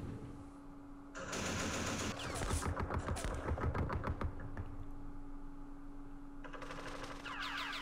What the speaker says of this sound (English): Oh, RPGs.